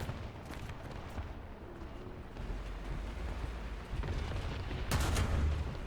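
Tank cannon fire and explosions in the War Thunder video game, a few deep booms with rumbling aftermath, the loudest blast near the end, heard alone without talk.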